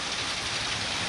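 Rain drips and patters from a rain gutter, a close, steady wash of water with no voices over it.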